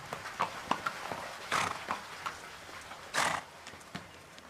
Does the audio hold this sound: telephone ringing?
no